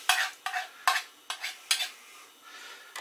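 Knife trimming excess pastry from the outside of a pie dish in downward strokes against the rim, about seven short scraping strokes in an irregular rhythm, close and fairly quiet with no talking.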